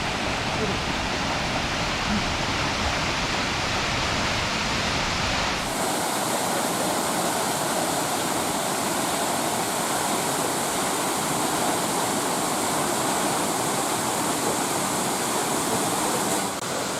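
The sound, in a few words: Munising Falls waterfall, Pictured Rocks, Michigan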